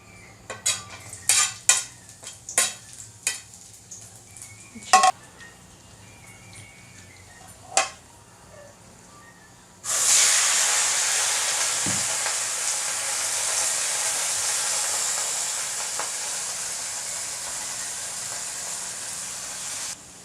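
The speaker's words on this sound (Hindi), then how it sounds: "तेल गरम हो गया है मेरा, तो इसमें मैं डालूँगी लहसुन" Garlic hits hot oil in a kadai during home cooking, bursting into a loud, steady sizzle after several sharp utensil and pan knocks, continuing strongly without talk.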